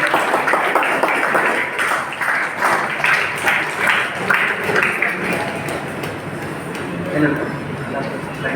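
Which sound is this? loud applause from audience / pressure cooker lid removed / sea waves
loud applause from audience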